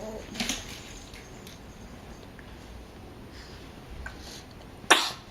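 A single sharp sneeze bursts out near the end after a few quiet, faint background noises and a soft breathy sound early on.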